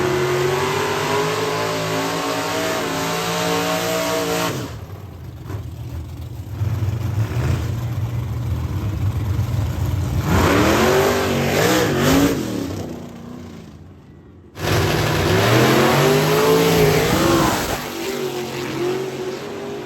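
A mid-1960s vintage drag car roars hard down the strip at the Tri-Five Nationals, engine revving loud and close before dropping off, then surging back at full throttle for a second run, with no talk over it.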